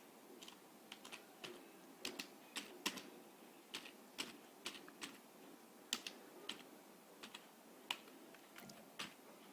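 Someone types VHDL code on a computer keyboard in quick, uneven bursts of light clicks, close and fairly quiet over a hushed room with no one speaking.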